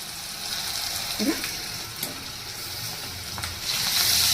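Sliced onions fry with ginger garlic paste and salt in a pan, a steady close sizzle and hiss with occasional stirring scrapes, growing louder toward the end.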